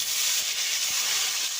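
Tomatoes frying in hot oil in a pan, giving a continuous close, loud sizzling hiss with faint spatters throughout.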